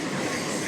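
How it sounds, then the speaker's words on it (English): A train rolls along the rails in a steady, dense rumbling wash of wheel and carriage noise heard from aboard, brief and without talk. "We on the train."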